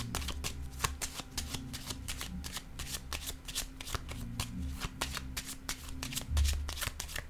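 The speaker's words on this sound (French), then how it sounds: "Je vais déposer une autre carte." Tarot cards are handled, shuffled and laid down close by, making a steady, dense run of papery riffling and flicking throughout.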